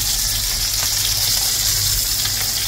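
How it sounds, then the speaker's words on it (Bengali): Sea fish frying in hot oil, a loud, dense, unbroken hiss and crackle with a low rumble beneath, steady throughout and very close. "আমি মাছটা ফ্রাই করতেছি"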